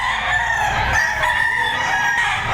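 A rooster crows in a long, drawn-out call close by at a poultry market in Lipa, Batangas, with other fowl sounds faintly in the background.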